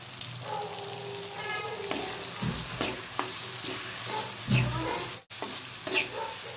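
Spices such as crushed red chilli, turmeric, black pepper and dried fenugreek frying in oil for chana dal, a steady close sizzle with occasional stirring scrapes and a brief sharp cut near the end.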